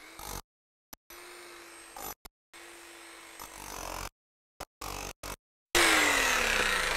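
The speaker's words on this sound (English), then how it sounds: "switch this over, put the chisel point on, and then we bust the middle out." A 1-3/4 inch SDS Max combination rotary hammer fitted with a chisel point busts out the middle of a 4 inch hole, running in short, loud bursts separated by sudden silences, with a final louder, harsher stretch.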